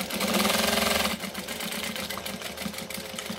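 A sewing machine stitches fabric in a fast, dense whirring burst for about a second, then slows into a lighter, rhythmic mechanical clatter, close and alone.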